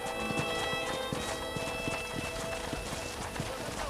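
Horse hooves clip-clop at a steady walking rhythm in the western video game Red Dead Redemption, fairly close and continuous over a bed of game ambience and music.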